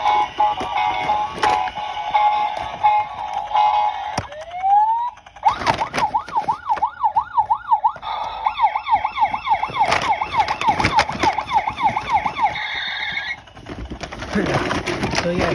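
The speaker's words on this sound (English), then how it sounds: "it has three sounds from the big police cars" A Tonka toy police car cycles through electronic siren sounds: a steady tone, a rising sweep, then fast warbling wails, loud and close, with clicks of buttons between modes.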